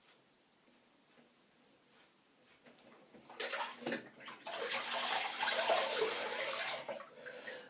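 A steel Edwin Jagger 3ONE6 safety razor rinsed under a running tap: faint drips and light knocks at first, then the water starts gushing close up in a loud steady splash that fades near the end.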